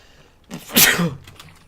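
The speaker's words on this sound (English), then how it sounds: "I know I'm sneezing" One sudden, forceful sneeze up close, with a quick intake of breath before it in an otherwise quiet room.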